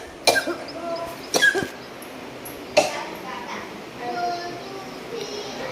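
A person with a cold coughs several times, with sharp hacking bursts close by and a softer cough later, amid quiet room background with faint children's voices.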